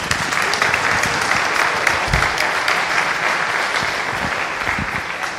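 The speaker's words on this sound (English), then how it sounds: "Please give him a round of applause." An audience claps at a conference talk on scaling and securing LibreOffice Online at FOSDEM 2016, giving dense, steady applause that continues for several seconds.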